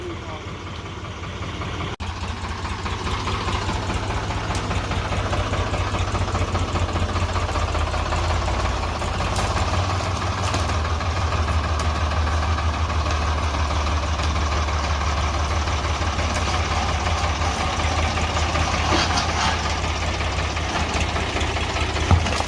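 A tractor's heavy diesel engine chugs steadily at idle in a farm field, a low, continuous knocking rumble lasting throughout with faint voices underneath.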